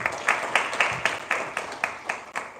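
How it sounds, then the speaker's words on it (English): Audience at a bank's family business conference clapping in a short burst: a run of evenly spaced, sharp claps, moderately loud and close, with faint talk beneath. "A round of applause for him."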